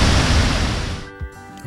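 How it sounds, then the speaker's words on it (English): Rushing waterfall in the Costa Rica rainforest near Arenal Volcano, a loud steady broadband roar close by that cuts off after about a second, leaving quieter ambience with faint tonal sounds. "we have made it to the waterfall"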